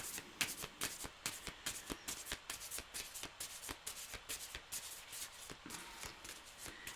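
Tarot cards shuffled by hand in repeated quick riffling bursts, fairly close and moderately loud, with a steady rhythm of crisp flutters and no talking.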